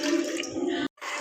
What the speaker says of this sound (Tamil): 1 டம்ளர் தண்ணி எடுத்திருக்கேன். அதை அடுப்பில் ஊற்றி நல்லா கொதிக்க விட்டுக்கலாம்.